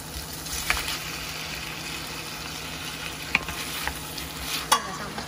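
Kimchi and fresh clams being tossed together by hand in a bowl, a soft continuous wet mixing rustle with a few sharper clicks of shells knocking, close and steady.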